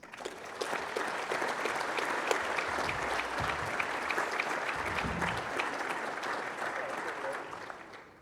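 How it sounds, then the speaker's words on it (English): A sizeable audience applauds with sustained, dense clapping that holds steady for several seconds before tapering off. "Can we give them a round of applause, please?"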